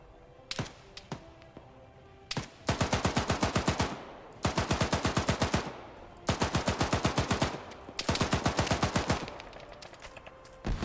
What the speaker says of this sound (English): Oh, there go GMG shots.